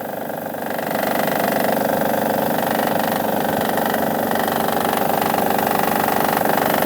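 A Honda Odyssey engine with a faulty timing belt tensioner idles with its drive belt removed, a steady, close mechanical hum with fine rhythmic ticking that settles after the first second and runs on alone.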